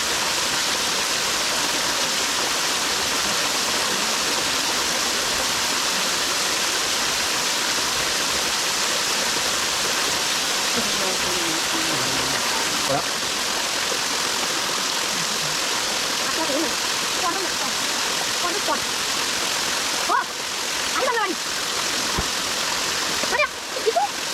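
Steady roaring waterfall at a secluded hidden spot, a continuous broadband rush of falling water heard up close, with occasional splashes and some talk over it toward the end.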